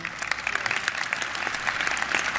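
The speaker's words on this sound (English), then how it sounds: "Let's give him a round of applause." A crowd applauds for the sitting US president, a dense, steady burst of many hands clapping at moderate loudness, heard on its own without talk.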